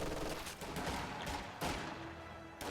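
An MG42 machine gun fires in the World War II strategy game Company of Heroes 2, with rapid rattling bursts over distant battlefield gunfire, heard alone at moderate volume.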